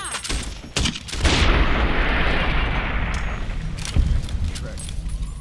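Grenade launcher blasts in Fallout New Vegas: a loud, booming burst opens a long, roaring rumble, with sharp crackling hits near the start and a second thump toward the end, while voices talk over the action.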